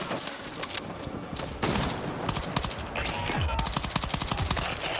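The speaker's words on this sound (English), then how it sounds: "I can move and shoot whilst using this gun." Rapid automatic gunfire in Battlefield 6, fired while the player keeps moving, sustained loud bursts of cracking shots with brief gaps between strings.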